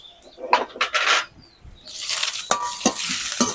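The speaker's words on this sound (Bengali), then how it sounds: "এবার দিয়ে দেবো আদা কুচি রসুন কুচি কাঁচা লঙ্কা কুচি" Chopped ginger, garlic and green chilli go into a pan of hot oil with browned onion. A few knocks and scrapes of stirring lead into a loud, close sizzle punctuated by sharp utensil clacks against the pan.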